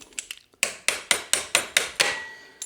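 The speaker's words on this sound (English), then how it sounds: "You may need to shake it or hit it just a little bit to get it to go through." Sharp metallic hammer blows strike a motorcycle axle to drive it through the fork stanchion during assembly of a TASACA V58, a few light taps followed by six louder, evenly spaced knocks, close and alone with no talking.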